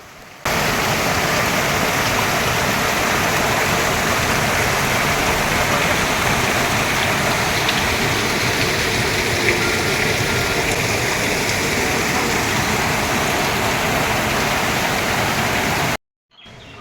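A cold mountain stream near Bhagsunag waterfall in Dharamshala rushes in a loud, steady broadband roar that stays constant for about fifteen seconds before cutting out abruptly, with no voices.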